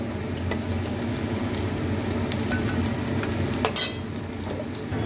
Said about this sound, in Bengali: এই তেলেতেই আমি এবার গোটা গরম মশলা আর তেজপাতাটা ফোড়ন দিলাম